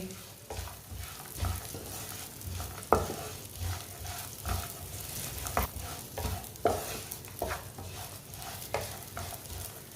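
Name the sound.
roasting dates in a pan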